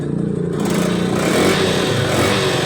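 Yamaha YTX motorcycle engine revving up close, a loud steady mechanical drone that climbs in pitch and holds at higher revs, with no talk over it.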